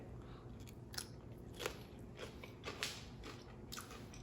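Someone bites into and chews a scoop of vegan loaded nachos topped with chorizo, a quiet series of close, crisp crunches in an uneven rhythm with no talking.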